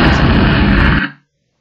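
A PowerPoint explosion sound effect: a loud, dense broadband burst that roars steadily for about a second, then cuts off abruptly into a short fading tail and silence.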